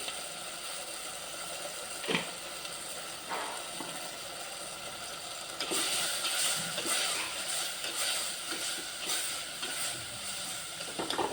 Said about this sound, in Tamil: நல்லா வதங்கிட்டு இன்னும் கொஞ்சம் நல்லா வதங்கணும்